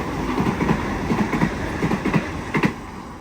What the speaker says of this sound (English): We have a Newcastle service about to pass platform number 2, 4-car Oscar